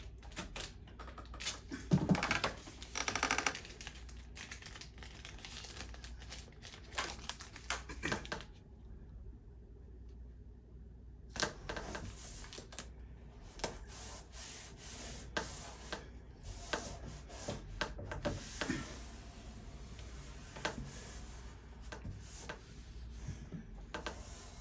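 Long strip of tape pulled and pressed down along the side of a landscape artwork to secure it, with sharp ripping bursts and tapping rubs, then a quiet pause before more scattered sticking and smoothing sounds.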